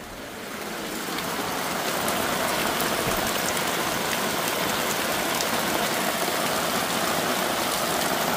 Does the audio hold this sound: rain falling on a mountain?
yes